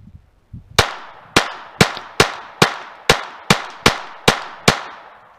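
A Glock 44 pistol fires .22 rounds at a can 35 yards away: ten sharp, loud cracks come at a steady, fairly quick pace. Each shot has a brief ringing tail, and no voices are heard.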